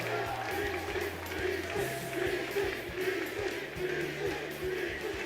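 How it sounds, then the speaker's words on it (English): A large crowd at a Smash Bros esports finals event chants and hums in a steady, droning roar that carries on without a break. A few faint rhythmic thumps sound underneath it. "A lot of BC chants out in the crowd."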